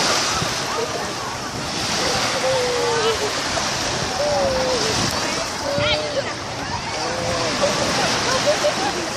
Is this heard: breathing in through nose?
no